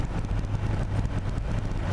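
Chevrolet C6 Corvette V8 engine heard as a low, rumbling burble, moderately loud and steady over a couple of seconds, without speech.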